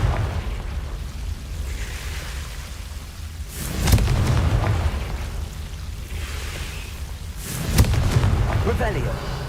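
Confringo blasting-spell explosions in the Hogwarts Legacy video game, two deep booming blasts a few seconds apart, each with a bright crackling burst that rolls off over a steady low rumble.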